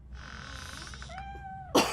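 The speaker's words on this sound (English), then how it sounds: "The cat is fine." A single drawn-out cat meow in the video game RoboCop: Rogue City, close and clear with a falling tail, followed by a short noisy burst right after.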